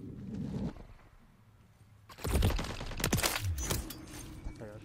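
Gunfire in the video game Call of Duty MW3, a rapid burst of shots and sharp cracks arriving midway, louder than the quieter game ambience before it.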